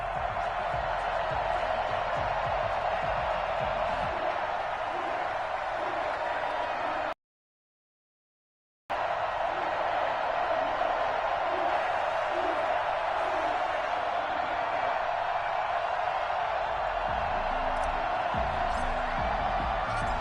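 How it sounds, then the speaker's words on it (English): A stadium crowd roars steadily in an EA Sports NFL football game between the Carolina Panthers and New Orleans Saints, a dense continuous cheer broken by a short silent gap midway. "This crowd is ready as their guys get set to match up between the Carolina Panthers and the New Orleans Saints"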